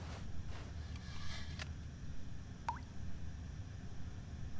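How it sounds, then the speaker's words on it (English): Water drips in The Stanley Parable video game, a few faint, sparse plinks over a low steady ambient hum, one clear drop standing out near the end with no voices. "Oh yeah, it's dripping."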